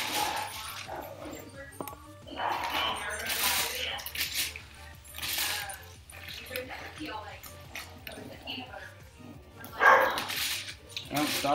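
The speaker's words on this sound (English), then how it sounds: "Dogs are at it again." Dogs bark repeatedly in short bursts at a moderate distance, mixed with scattered clinks and handling noises and a steady low hum in the background.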